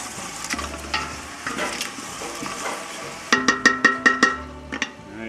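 A spoon stirs Creole seasoning into spaghetti sauce in a pot with soft scraping and sizzling, then a quick run of about eight sharp metallic clinks as it taps the pot's side, fairly close and loud.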